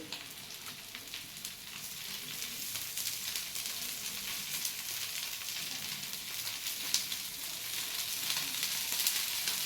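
A thin fasting dosa fries in ghee on a flat pan, giving a steady close hiss and soft crackling sizzle that builds slightly over the stretch, alone with no talking.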